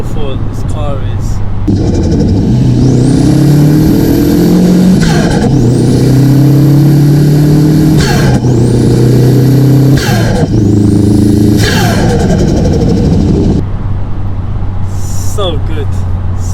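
A home-built Audi A3 1.8T accelerates hard on a highway, loud and close, its engine note climbing repeatedly through several quick gear changes with whooshing turbo sweeps between shifts. A voice talks over the run.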